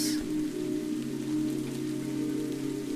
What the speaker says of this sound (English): soft patter of the rain